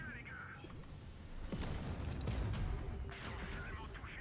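A bomb exploding in a tank battle video game, a deep rumbling boom that swells and lingers over constant engine and battle noise, with a player talking throughout.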